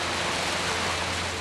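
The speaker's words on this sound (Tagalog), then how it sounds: "Biglang bumuhos ang malakas na ulan." Heavy rain pours down outside a classroom in a flood-prone area, a dense, steady hiss of downpour that stays loud and unbroken throughout with no voices.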